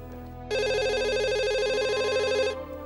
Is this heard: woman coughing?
no